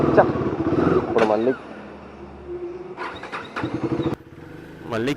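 A motorcycle with its silencer submerged in water is cranked, giving brief sputtering bursts of engine noise in a rainy outdoor setting, while people talk loudly nearby over and between the attempts.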